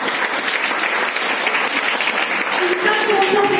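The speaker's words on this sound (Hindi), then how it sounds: "ताली होनी चाहिए सर।" Audience applause at a financial freedom seminar in Vapi, a dense, loud, continuous clapping from a crowd filling the whole moment.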